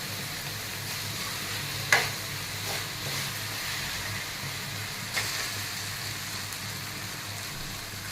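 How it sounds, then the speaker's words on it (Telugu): Onions and tomatoes frying in a pan for egg curry, giving a steady low sizzle with a couple of sharp utensil clicks near the pan and no talking. "ఇలా ఫ్రై చేస్తే బాగుంటుంది"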